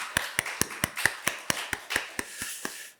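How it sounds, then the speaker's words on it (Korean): A church congregation at a Korean Wednesday worship service claps in unison, about a dozen sharp, evenly spaced claps in a steady rhythm before stopping, with no talking over it. "우리 박수 한번 칩시다."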